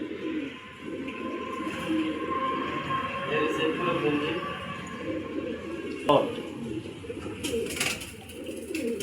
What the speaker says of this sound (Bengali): চলুন আপনাদেরকে কবুতরগুলো দেখেন